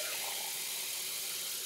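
Water running steadily from a household tap, a continuous even hiss and splash that stays close and constant with no voices.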